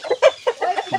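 Chickens in a backyard coop cluck loudly and close by in a quick run of short, choppy calls.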